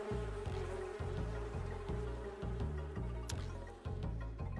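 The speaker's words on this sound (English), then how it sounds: "Here come the bees once again." Bees buzz steadily and loudly in a game scene, a dense droning hum with rhythmic pulsing, close and continuous with no speech over it.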